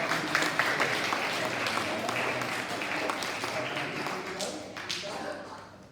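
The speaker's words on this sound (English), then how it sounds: "Big round of applause, please." A school celebration assembly gives a sustained round of applause, dense clapping from many hands that fills the room, with a voice or two faintly underneath, easing slightly toward the end.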